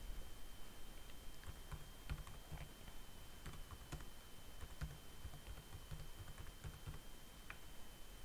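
Typing on a computer keyboard while building an interactive slide, a steady patter of quiet, close key clicks with small irregular bursts running through the whole stretch, with no one speaking.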